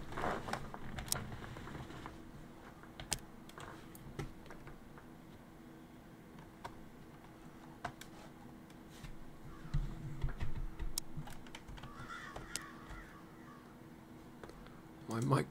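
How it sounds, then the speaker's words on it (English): Scattered clicks of keyboard typing in irregular bursts, fairly quiet, over a low room hum with faint background sounds. "My microphone picks up my keyboard."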